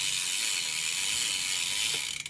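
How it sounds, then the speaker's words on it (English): A BMX bike's rear hub ratchet clicks in a fast, steady buzz of tiny metallic ticks, close and alone, tailing off in a few slowing clicks at the end. "And then the hub sound sounds like this."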